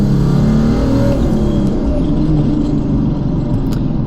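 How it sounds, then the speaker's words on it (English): Close, loud engine and road rumble from a 1995 Mercedes-Benz E300 turbo diesel car with a manual gearbox as it accelerates through the gears, the drone rising steadily and continuously with no talking. "we'll get it up into 5th and 6th gear"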